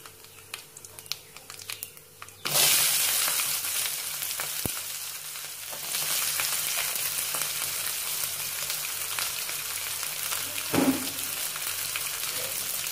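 After a few quiet seconds, mustard seeds hit hot oil and start spluttering, a steady close sizzle with sharp popping crackles throughout; no talking.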